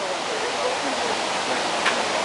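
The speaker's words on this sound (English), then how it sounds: "This is Multnomah Falls here, and I think this is my most favorite waterfall of all time." Multnomah Falls in the Columbia River Gorge, a broad steady roar of falling water that stays constant and fairly loud, with no break in the rush.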